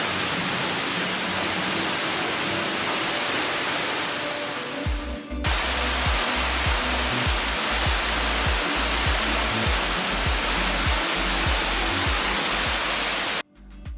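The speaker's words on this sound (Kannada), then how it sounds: "ಎತ್ತರದ ಬೆಟ್ಟದ ಮೇಲಿಂದ ಧುಮುಕುವ ಜಲಪಾತ ಸೌಂದರ್ಯ ನೋಡೋದೇ ಕಣ್ಣಿಗೆ ಹಬ್ಬ." Kudlu Theertha waterfall on the Sita river, plunging from a high hill in the dense Western Ghats forest near Agumbe, roars as a loud, constant wash of falling water. The sound cuts abruptly twice, as if edited.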